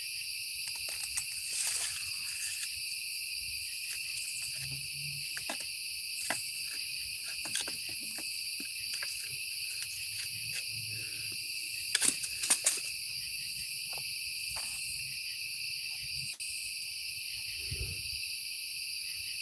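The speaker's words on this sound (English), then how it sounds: "Everybody hear the crickets?" Crickets chirping outdoors on a quiet night at a campsite, a dense continuous high trilling chorus at moderate level with a few faint clicks and rustles, no talking.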